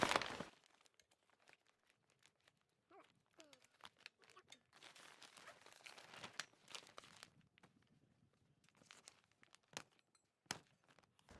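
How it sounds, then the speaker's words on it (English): Top layer of new poly film peeled back by hand, giving close, intermittent crinkling and tearing rustles with brief crunchy bursts and quiet gaps. "So I peel back the top layer a little bit."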